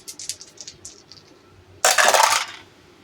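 Four dice rolled onto a table during a Memoir '44 board game, a sequence of light bright clicks, then a loud clattering burst of dice tumbling and settling close by.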